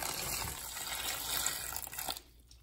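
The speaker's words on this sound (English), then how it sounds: "So I am gonna add a little bit of water." Water is poured into an Urban Worm Bag worm bin, splashing softly onto egg crate and cardboard bedding in a short steady gush that tapers off, faint and close.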